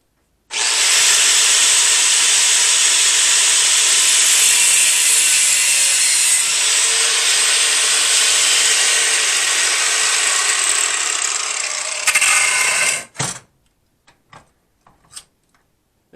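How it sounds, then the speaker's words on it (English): Metal spoons being cut with a power tool: a steady, loud, high whining grind for about twelve seconds, then it stops, followed by a few brief clinks and knocks. "I need to start cutting off some spoons"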